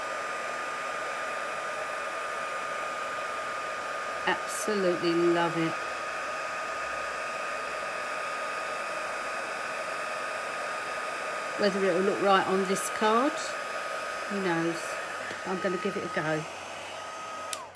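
A heat gun heat-embosses a stamped flower on a card, producing a steady, close hiss and hum of blown air throughout. Someone speaks briefly in short bursts over the noise.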